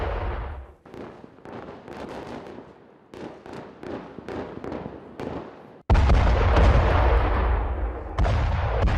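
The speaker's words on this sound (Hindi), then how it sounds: "ये तस्वीरों में भी साफ तौर पर समझ में आ रहा है कि बिना रुके गाजा में बमबारी का दौर जारी है" Heavy bombardment explosions in Gaza, a rapid series of loud booming blasts and crackling bursts, growing into a dense, sustained roar of detonations near the end with no speech.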